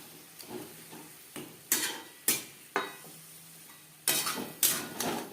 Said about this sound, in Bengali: পেঁয়াজের সাথে মাছ বেশ ভালো করে মিক্সড করে দেব।